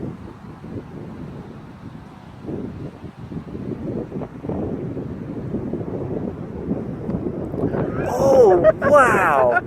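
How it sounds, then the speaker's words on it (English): Strong wind buffets the microphone outdoors with a low, rumbling roar that swells and gusts, while a person talks over it and a higher whine rises near the end. "Wow. That wind."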